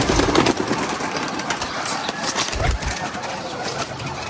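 Pigeons cooing in a flock, soft repeated calls half-buried in a steady wash of broadband noise and low rumble, with no clear voices over them.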